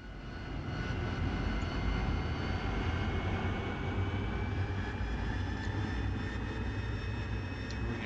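AV-8B Harrier jet engine in the DCS flight simulator, heavily loaded and low on fuel during takeoff: a loud, steady roar with whining tones that holds for the whole stretch, with no talk over it.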